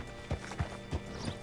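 A horse's hooves clop softly in Red Dead Redemption 2, four muffled thuds at a slow, even walking pace over a low background hum.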